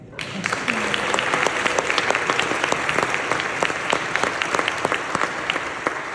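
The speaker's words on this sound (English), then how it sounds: "Y'all clap for that." A congregation in a church applauds during a Black History Month choral concert in Mississippi. Loud, close clapping rises sharply and holds as a thick, even roar, with individual sharp claps standing out.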